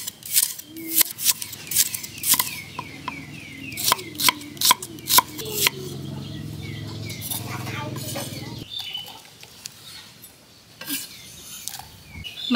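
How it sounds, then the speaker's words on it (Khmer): Shallots are sliced thinly with a knife in a quick run of crisp, close cutting clicks that thin out and stop partway through, leaving quieter room sound. "ខ្ទឹមក្រហមហាន់វាបដោយបដោយចេះ"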